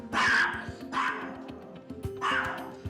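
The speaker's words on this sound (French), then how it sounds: "Vous avez entendu ce petit aboiement?" A small, nervous chihuahua lets out short, high-pitched yips, three sharp bursts spaced about a second apart, close and fairly loud.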